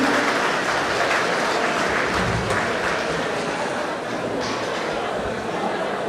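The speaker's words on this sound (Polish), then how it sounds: "wielkie brawa dla dyrekcji naszej szkół posolowackiej" A ballroom audience at a charity ball in Kosów Lacki applauds the school's directors with dense, continuous clapping that holds at an even level throughout, with some voices mixed in.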